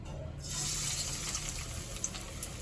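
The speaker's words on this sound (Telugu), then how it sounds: "ఆయిల్ కూడా వేడి అయిపోయింది. ఇప్పుడు ఒక్కొక్క పీసెస్ వేసుకుందాం." Fish kebab pieces drop into hot oil for deep frying, and a bright, steady hissing sizzle bursts in after a short quiet start and continues with small pops.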